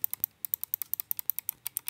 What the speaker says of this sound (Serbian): I naravno desni i levi klik.